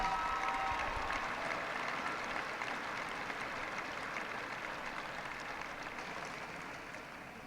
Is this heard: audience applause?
yes